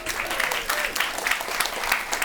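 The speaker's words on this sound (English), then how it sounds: "Please give him a round of applause" Audience applause at a Climate Week fireside chat, a steady wash of many hands clapping that swells in short bursts and fills the room at moderate loudness, with no talk over it.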